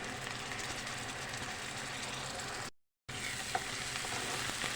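A paste of cashews, cloves and poppy seeds fries in a pan for mutton gravy curry, a dense, even sizzle that runs continuously apart from one brief silent gap.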